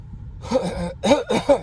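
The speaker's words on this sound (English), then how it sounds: "Sorry, I had to clear my throat." A man clears his throat several times in quick, rough bursts, close and fairly loud, with brief pauses between the raspy efforts.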